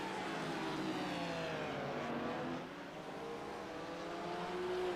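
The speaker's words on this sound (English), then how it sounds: "I like the sound of the engine too" Porsche flat-six race car engine in a 24H Series esports racing game at Barcelona, a steady high-revving whine with rising and falling pitch as it shifts, held loud throughout.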